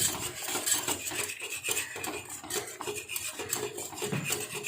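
A utensil stirs thick millet porridge (kambu koozh) in a pot, making continuous close scraping and rubbing against the pot, moderately quiet and without speech.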